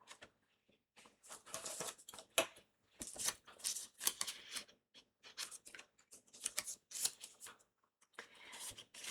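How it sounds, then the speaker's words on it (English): Scissors snip through paper around a circle die, giving a series of crisp, close cuts in irregular bursts separated by short pauses, with no talking. "So I just put it on my 3 by 3 piece of paper and cut it out."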